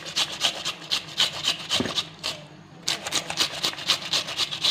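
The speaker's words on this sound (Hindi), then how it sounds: "अब इसको हम कद्दूकस करेंगे।" Mooli (white radish) being grated on a hand grater in a home kitchen: steady, close rasping strokes repeat rhythmically, with a short pause midway before the scraping resumes.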